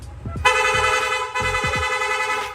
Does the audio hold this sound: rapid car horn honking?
yes